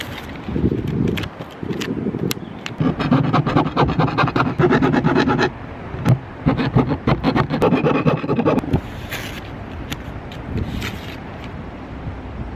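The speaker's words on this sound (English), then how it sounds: "now we're gonna quickly try to get this these metal shavings off" Metal shavings being brushed and scraped off a van roof during a solar panel install outdoors, heard as a steady rough scratching and rubbing in bursts with brief pauses and some wind noise.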